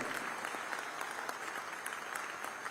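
Steady applause fills a hall at a Chhattisgarh state solar subsidy ceremony, many hands clapping continuously in an even, dense wash heard at a distance, with no talking over it.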